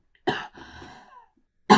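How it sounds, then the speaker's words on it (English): Two sharp coughs, close and fairly loud, separated by a brief raspy breath between them. "I need to cough 1 second."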